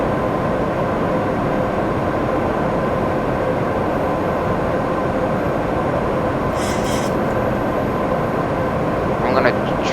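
Continuous cockpit engine drone of a simulated Boeing 737 MAX in the flight simulator X-Plane 11, a steady broadband roar with faint tonal hum and a couple of brief chimes or clicks near the end.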